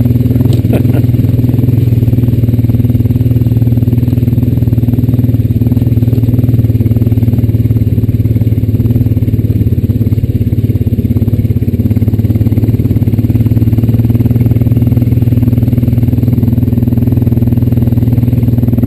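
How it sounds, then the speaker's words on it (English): A Honda Rancher 420AT ATV rides along a dry, dusty trail, its engine holding a steady, loud low drone throughout with light clatter and rattle over the top and no talk. "What got into the rancher back there? It got a spurt of energy and just took off."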